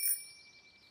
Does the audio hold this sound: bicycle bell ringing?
yes